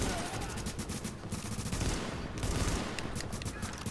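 Burst fire from a gun in Tom Clancy's The Division crackles in rapid, repeated short volleys over a dense, continuous layer of battle noise.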